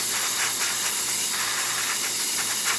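A steady, loud hiss of steam from a La Spaziale Vivaldi 2 espresso machine's wand, continuous and close, with faint fluctuations.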